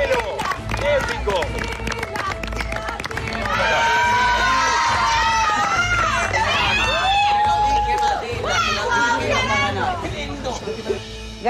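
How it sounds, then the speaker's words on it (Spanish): A television studio audience claps and cheers for Matilda after a duel on a celebrity reality show, a loud sustained roar of applause and shouts with a host speaking over it. "Fuerte el aplauso para Matilda por el esfuerzo que hizo"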